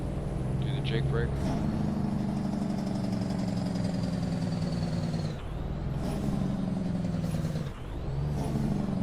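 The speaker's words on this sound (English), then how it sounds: "Do the Jake brake." In a truck-driving video game, a Kenworth W900 tri-drive with a modified Cummins N14 rumbles loudly under engine braking, a deep steady drone with a whining tone that dips briefly twice as the braking cuts in and out.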